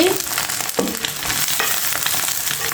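Leftover overnight rice fried with onions and chilies in a hot pan, loud continuous sizzling with scraping stirs and clattering as the rice is tossed in, no voices.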